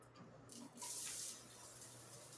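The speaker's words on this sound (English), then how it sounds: "Shower head works." A shower head in a house bathroom is turned on, and running water swells into a steady, close spray that continues to the end.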